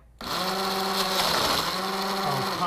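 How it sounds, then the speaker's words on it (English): A battery-powered blender built into a Coolest Cooler whirs steadily and loudly the whole time, a continuous high motor whine after a quick start, heard at a beach with no talking. "It's got a built-in blender, which is why I wanted it to begin with"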